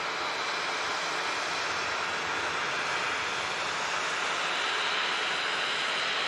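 A NetJets Embraer business jet taxiing at Manchester Airport in thick fog, its engines giving a steady, continuous broadband roar that holds level and fills the whole stretch with no talk.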